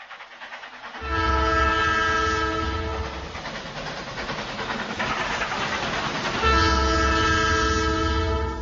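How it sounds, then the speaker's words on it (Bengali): A train rumbles loudly into Ghatshila station with a long, steady horn blast, a pause of rolling noise, then a second sustained horn blast close by. "তখন ট্রেন ঘাটশিলা স্টেশনে ঢুকছে"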